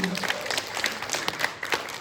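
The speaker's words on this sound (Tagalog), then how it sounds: "Pumalakpak nga po ang gising." Applause from a church congregation during a Sunday service, scattered claps spreading across the room at moderate volume for a couple of seconds with some voices mixed in.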